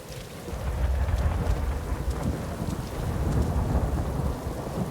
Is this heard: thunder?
yes